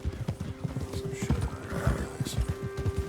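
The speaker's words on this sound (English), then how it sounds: "Get a hold of that horse, will you?" A horse whinnies loudly over rhythmic hoof clip-clops in the video game Red Dead Redemption, with a second shorter neigh following, close and busy.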